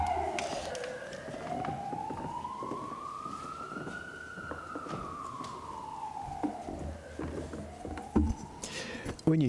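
An emergency vehicle siren sweeps slowly up and then back down in pitch as it passes outside, steady and fairly loud against low background rumble, with occasional knocks and a brief voice near the end.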